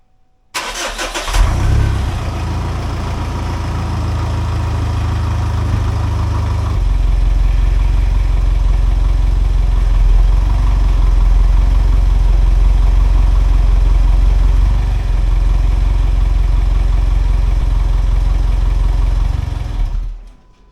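A 2013 Mitsubishi Triton's engine cranks and catches, then settles into a steady, loud, close idle with a deep low rumble that steps up slightly partway through before the engine shuts off at the end.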